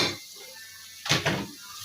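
Onions and ginger are stirred in a pot for pilau: a couple of quick scraping, clinking utensil strokes against the metal, close and brief, over faint background hiss.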